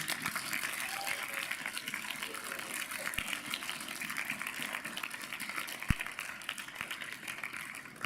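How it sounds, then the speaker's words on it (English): Faint, even applause for a committee at a graduate ceremony, a soft continuous patter of many hands heard from a distance. "students, please help me give them a big round of applause"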